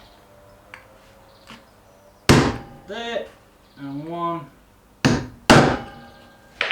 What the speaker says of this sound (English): Trusty old centre punch, tapping stick, and we want one